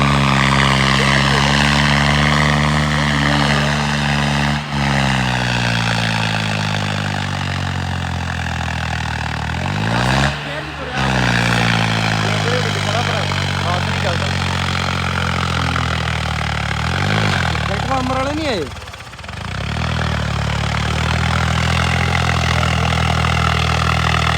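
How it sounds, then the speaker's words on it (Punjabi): A tractor engine revs hard and loud during a tractor trolley race at Fatehgarh, a steady throbbing drone with rising and falling pitch sweeps as it accelerates, close by and continuous. "ਇਹਦਾ ਲੰਮਾ ਟਰੈਕਟਰ ਰੇਸ ਚੁੱਕ ਲੈਂਦਾ"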